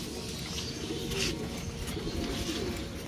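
Racing pigeons coo while being fed pellets in their loft, with repeated soft, low throaty coos over a steady background hum and some faint rustling.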